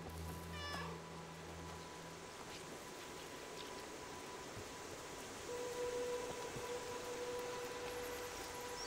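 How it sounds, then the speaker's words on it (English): A short meow from a cat in the video game Stray comes early, then a long stretch of quiet hissing in-game ambience with a faint steady tone later on. "They meow too."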